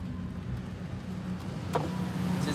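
A truck drives past on a road, producing a steady low engine rumble and road noise that holds for a couple of seconds, with no talking.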